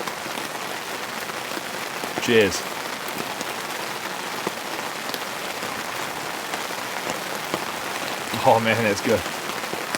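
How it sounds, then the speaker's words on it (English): Heavy rain pours onto a camping tarp in a continuous dense patter while a person speaks briefly twice, once near the start and again near the end. "Hot chocolate and marshmallows in the pouring rain."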